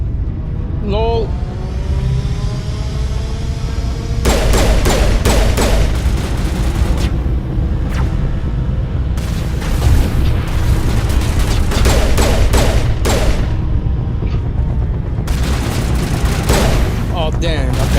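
Heavy gunfire with bullet impacts in the video game Mass Effect, dense and loud volleys that run almost without pause, mixed with booms, while a voice talks over them.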